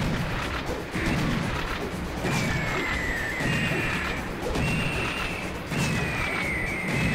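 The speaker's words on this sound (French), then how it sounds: "on va peut-être sortir un petit coup de fusil à pompe" Shotgun blasts in a video game fire in a slow series of heavy booming shots, with whooshing effects and pitched tones between them, loud and close with no talk.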